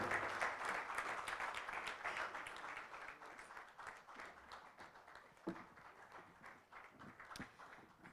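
Diners at a fellows onboarding dinner applaud as a stage guest takes her seat, with a full burst of clapping that gradually tapers and becomes more scattered, leaving a few isolated claps near the end.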